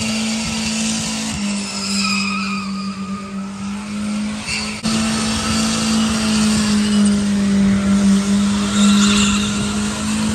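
An AMC Pacer burnout car screeches its tires continuously under a loud, droning engine. The squeal is close and sustained, with a brief dip near the middle before the engine surges back louder, and no speech.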